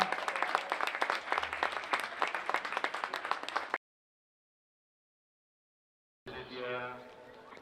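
Loud clapping from spectators greets athletes finishing a race at an international athletics meeting in Palafrugell, Costa Brava, lasting a few seconds before cutting to silence, then a voice speaks.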